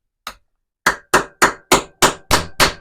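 Screwdriver head tapping a model car part into place on a James Bond DB5 build, one sharp knock then a pause and six evenly spaced, loud, close taps.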